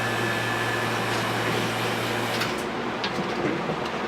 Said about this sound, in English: So we're going to turn on our vacuum pump.